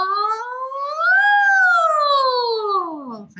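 A singer's voice imitates an ambulance siren during belting practice, one long sustained tone sliding up and then gliding back down, loud and close, with no other sound.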